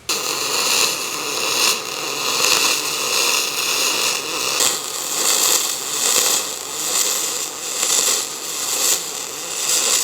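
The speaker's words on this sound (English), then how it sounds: "Got that stitch welded on." Welder stitch-welding an aluminum horse trailer gate, a loud, close, continuous crackling hiss with pulsing rhythm and no talk.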